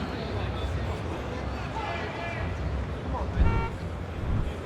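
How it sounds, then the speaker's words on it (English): A car horn honks briefly in the background of a busy outdoor fight event, with crowd chatter and traffic noise running throughout. "if that guy honks the horn one more time."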